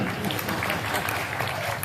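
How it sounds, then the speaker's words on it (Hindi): A crowd at a Hindi kavi sammelan poetry gathering in Sojat breaks into applause, a brief, thick burst of clapping with a low murmur of the audience underneath. "वो जोरदार ताली बजाओ जरा"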